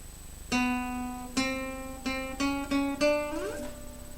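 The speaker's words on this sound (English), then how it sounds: "Bar 30 contains a glissando on the last beat of the bar and sounds like this." A few separate plucked guitar notes ring out, then the last one, a D, slides upward smoothly in pitch as a glissando before fading. Close and clear, with no talking.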